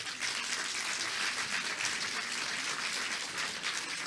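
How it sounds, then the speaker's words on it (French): A crowd at an academic finals event in Montpellier applauds the finalists with loud, sustained, evenly dense clapping from many people, with no voices over it. "On peut les applaudir bien fort."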